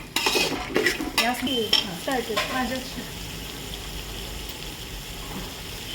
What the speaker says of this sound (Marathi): हलवत हलवत हलवत घालायचं